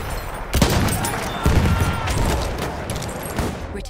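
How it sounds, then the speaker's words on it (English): Enemy machine gun in Battlefield 1 rattling off loud, dense bursts of automatic fire, with sharp heavy cracks near the start and middle over a sustained roar of rapid shots. "There's an enemy machine gun."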